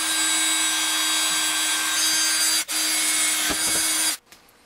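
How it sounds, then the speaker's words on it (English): A loud, steady power drill whirs continuously, grinding through material with a brief dip midway, before cutting off abruptly at the end. "So you have to keep drilling down for the other side."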